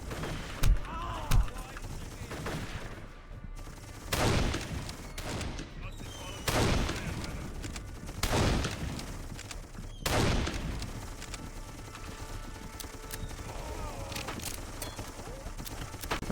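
Gunfire in the video game Darkest of Days comes as scattered loud shots and short bursts, some close and sharp, spread across the stretch over a noisy game background.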